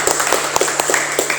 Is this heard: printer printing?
no